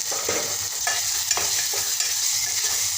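Chopped medium-size tomato sautéing in a pan, a steady close sizzle with repeated stirring scrapes at a loose rhythm, alone and fairly loud.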